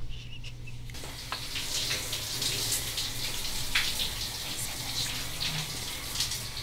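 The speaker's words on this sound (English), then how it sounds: "is in the shower right now" Shower water runs steadily indoors, a continuous broad hiss with a constant low hum beneath, starting after a quiet moment and holding at an even level.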